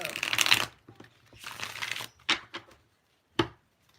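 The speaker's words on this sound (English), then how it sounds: "I'm going to shuffle one more time because I want to be real thorough." Tarot cards are shuffled by hand in a few bursts of riffling and slapping, with soft taps and a final sharp card snap, close up and with no talking.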